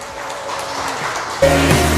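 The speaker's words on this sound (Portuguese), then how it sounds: "Senta aplaudindo a Jesus." A church congregation claps through a broad, steady wash of applause before a louder musical tone cuts in partway through.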